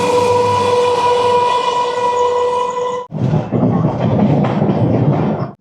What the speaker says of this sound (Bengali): আমাদের পিছু লেগেছে এই লোকাল ট্রেনটা, এটা ব্যান্ডেল যাবে